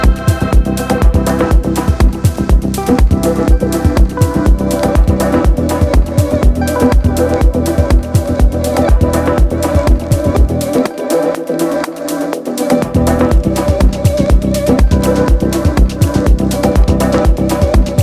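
A fully produced music track with a steady, driving beat plays loud and continuous through a WESAudio Prometheus EQ and RHEA compressor, with a brief low-end dropout near the middle.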